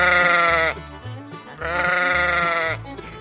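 A young child imitates a sheep's bleat in two long, loud, quavering vocal bursts separated by a short pause, with faint background sounds around them.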